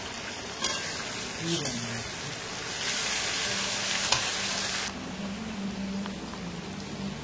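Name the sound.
stirring fried rice with soy sauce in a frying pan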